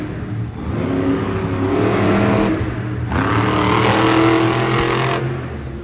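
An Earthshaker monster truck engine revs loud and close at a Monster Jam freestyle event in Fargo, North Dakota, in 2024, sustaining a heavy roar in two long surges with a brief dip between.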